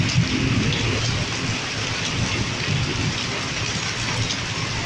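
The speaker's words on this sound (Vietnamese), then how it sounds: "mưa này rất ngập do nước quá" Heavy rain pouring down on a flooded town in Kiến Tường, Vietnam, a dense, loud, unbroken hiss of drops on water and surfaces that stays steady throughout.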